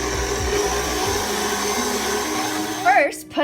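A steady electric mixer whirs through cake batter with milk and vanilla at a constant high drone, then stops near the end, where a short voice exclamation follows.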